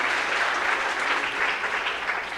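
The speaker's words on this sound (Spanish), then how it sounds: "Dale un fuerte aplauso a la palabra de nuestro Señor y Salvador" A church congregation gives a strong round of applause, a steady, dense wash of clapping holding evenly throughout at moderate volume.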